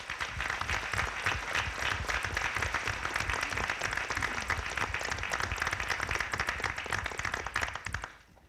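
An audience at a heroin summit applauds staff members with sustained, dense clapping that holds steady for about eight seconds before trailing off at the end.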